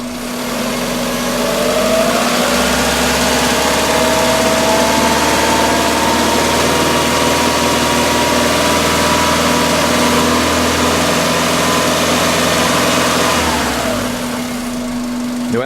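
A car engine held at a steady 2000 RPM during an exhaust restriction diagnosis, a loud, close, even drone with a constant hum, rising at the start and dropping back toward idle near the end.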